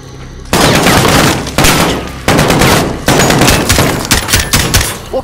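Sustained automatic gunfire in the Call of Duty Modern Warfare (2019) campaign, several loud, close bursts of rapid shots separated by brief pauses, with no voices.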